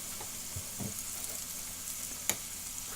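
Pork gyoza fry in a pan with a steady, close sizzle of hot oil, a few soft scrapes as they shift, and one sharp clink near the end.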